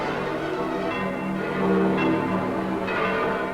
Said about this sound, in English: the Vatican bells of St. Peter's ring in peace